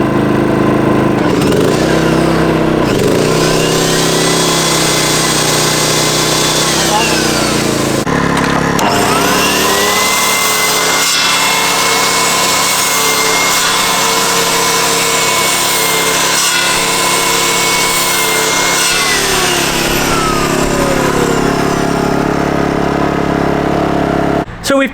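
A petrol generator runs steadily and loudly while powering a chop saw, whose whining cut rises and falls over the engine drone for most of the stretch, with voices speaking over it.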